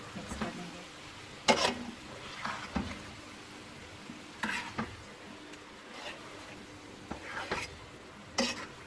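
A spoon stirs cooked dhaba-style mixed vegetables in a pan, the heat already off, giving a few scattered, fairly quiet scraping strokes with soft clinks between them.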